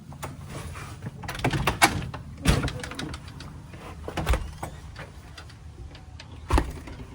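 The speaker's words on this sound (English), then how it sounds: "Door's not really shutting on its own either." An old house door that no longer shuts properly on its own is closed, giving several knocking thuds and a rattling bump, with footsteps and faint rustle around it.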